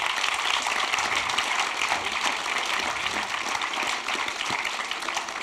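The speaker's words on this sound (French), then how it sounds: "Je crois qu'on peut applaudir" An audience at a humanitarian round-table conference applauds, producing a dense, even stream of clapping that holds steady for several seconds at moderate distance with no voices on top.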